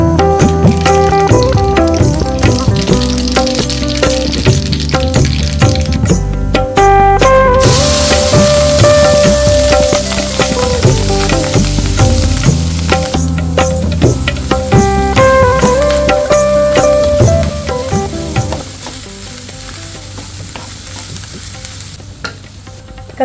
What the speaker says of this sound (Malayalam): ഇനി നമുക്ക് കടുക് വറുത്തിട്ട് ഇടാം.